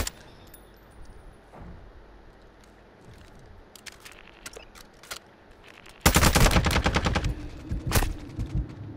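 Sustained automatic gunfire in a multiplayer shooter breaks out loud and close after several seconds of quieter scattered clanks and distant shots, continuing as a dense rattling stream with a few sharper cracks, no voices.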